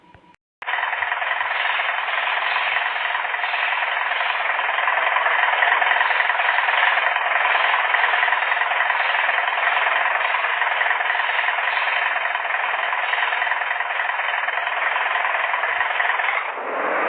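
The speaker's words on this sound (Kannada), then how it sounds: "engine sound, break sound, horn sound ಎಲ್ಲ ಕೇಳಿಸ್ಕೊಂಡ್ರೆ" Bus engine in the Bus Simulator Indonesia game, droning steadily and loudly for the whole stretch with an even, rattly hum and no clear brake hiss standing out.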